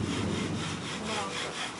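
A bow drill spins against wood to start a fire, making a steady, close, rasping friction sound in rapid back-and-forth strokes.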